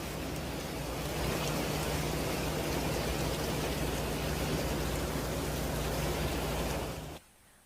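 Heavy rain pours onto flooded New York City streets, a dense, loud, steady hiss and patter lasting about seven seconds before abruptly cutting off, with no voices.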